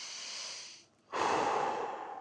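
A single deep breath, a long drawn inhale followed after a short pause by a fuller, louder exhale, close and soft with no talk.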